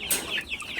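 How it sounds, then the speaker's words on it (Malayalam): Native country chickens on a farm cluck and call in a short, close burst of high, chattering sounds, with no one speaking. "അവിടെ ഇരിക്കുന്ന പ്യുവർ നാടൻ കോഴികളാണ്"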